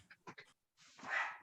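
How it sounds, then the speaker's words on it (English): A dog barks several times in quick, small yelps, then lets out a longer whining howl, heard faintly and close during an online video call. "My dog is reverting here and just becoming wild."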